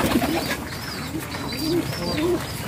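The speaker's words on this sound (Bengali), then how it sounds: "এটা হচ্ছে মাদি কবুতর, আপনার বাচ্চাকে খাওয়াচ্ছে।" A female pigeon feeding its chick gives soft, low, repeated coos in a short steady sequence, heard up close over a rough background hiss with no talking.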